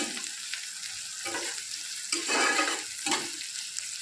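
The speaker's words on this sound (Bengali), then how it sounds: "পেঁয়াজটা ভালো করে ভাজা ভাজা মতো করে নেব" Onions fry in a pan, a steady sizzle broken by several stirring strokes that swell into brief louder hisses and scrapes, close by and without talk.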